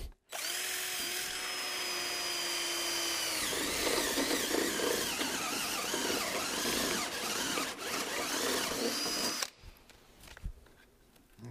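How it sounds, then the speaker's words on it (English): Power drill boring holes with a 3/4 inch bit while installing perimeter box beams: a high whine spins up, then grinds loudly through the wood for several seconds before abruptly stopping, leaving faint rustling. "I pop these holes with a vary bit, 3/4 inch vary bit, and I just drill these holes."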